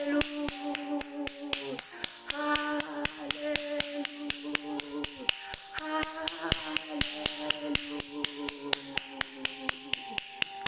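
A church congregation claps for Jesus in a fast, even rhythm over worship music, each sharp clap cutting through the melody for the whole stretch.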